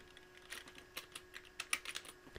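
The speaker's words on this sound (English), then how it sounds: "I was talking and typing" Typing on a computer keyboard: quick, light, irregular key clicks close by, soft against a quiet hum, with no speech.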